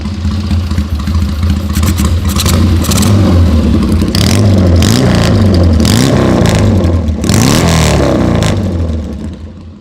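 Gene Romero's factory Triumph TT 750 flat-track racer, a street tracker, revs hard up close, its loud engine climbing and falling in repeated throttle blips with a rough, barking note throughout, no talking.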